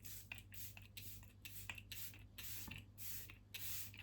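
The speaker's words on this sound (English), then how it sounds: "First thing is up is my setting spray." Soft, breathy hisses of setting spray misted onto a face, coming in a steady series of short bursts a fraction of a second apart; quiet and close, with a low hum underneath.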